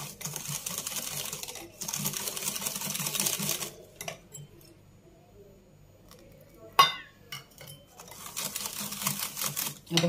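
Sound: stirring custard mixture with warm milk in a bowl

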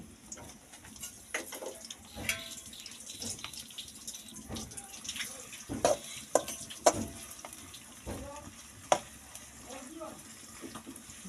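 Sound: papaya curry frying in a kadai

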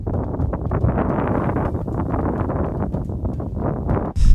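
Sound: strong wind on a golf course

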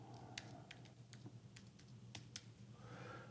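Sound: typing a shared key on a computer keyboard

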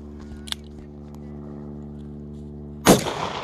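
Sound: one-handed gunshot from a .45 Long Colt cowboy revolver

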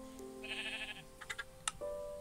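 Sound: sheep bleating in a video game

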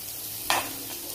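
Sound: sautéing in a pan until browned, South Indian kichdi

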